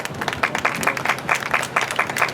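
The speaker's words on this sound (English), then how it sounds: "A round of applause." Steady, dense applause from an audience at the final of an international polo cup match between the United States and Argentina, with many hands clapping at a fairly even level and no talk above it.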